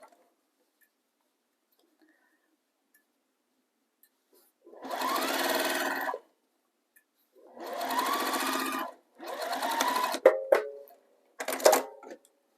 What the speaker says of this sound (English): So I'm just going to go over this by machine.